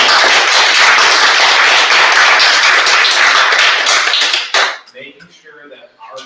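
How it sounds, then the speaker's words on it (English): A crowd applauds at a church annual meeting, dense loud clapping for about four and a half seconds before it cuts off abruptly, followed by quiet room sound and faint talk. "Let's give them a round of applause"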